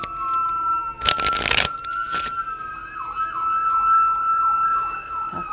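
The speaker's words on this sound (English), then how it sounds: "I don't know if y'all can hear the sirens in the background" A fire truck siren passing outside, its wailing tone rising and then cycling rapidly at middle distance, with a brief burst of nearby noise early on and no talking.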